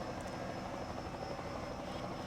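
Helicopter rotor chopping steadily at moderate distance in a stock car racing video game at Bristol Motor Speedway, a continuous low whirring drone with no talk.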